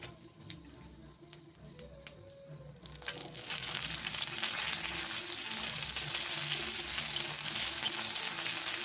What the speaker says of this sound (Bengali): ওতে তেজপাতা শুকনো লঙ্কা আর পাঁচ ফোড়ন দিয়ে একটু নেড়ে নিচ্ছি আর গাঁদাল পাতা বাটাটাও এতে একটু নেড়ে নেব